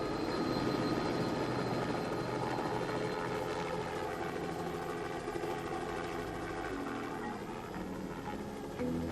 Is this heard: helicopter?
yes